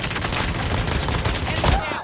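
Sustained rapid gunfire in Call of Duty Mobile battle royale, loud and close, crackling continuously for about two seconds in dense bursts.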